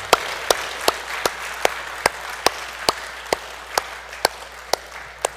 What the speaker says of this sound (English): Well, we're going to clap for that